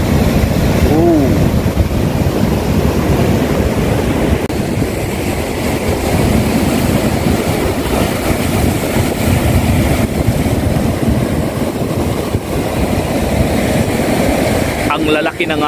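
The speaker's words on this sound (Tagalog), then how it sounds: "Lalaki ng alon." Big ocean waves churn and roar in a continuous loud wash, steady and close for the whole stretch, with a few faint exclamations from people nearby.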